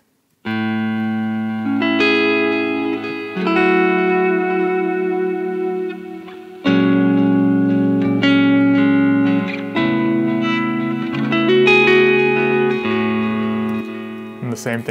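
An electric guitar plays sustained, harmonically rich chords and notes through a warm vintage Tone King tube amp, loud and close, with ringing decays between strums.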